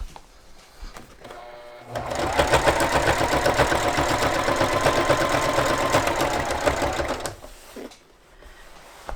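Sewing machine stitching stiff PVC boat cushion material, a steady fast mechanical whir and clatter running about five seconds, close and loud, then stopping.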